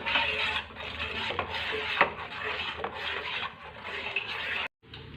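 Chhena (cottage cheese) being stirred in a pan with a spoon, giving continuous close scraping and rubbing with a few sharp clinks against the metal, alone without talk, ending in a brief pause.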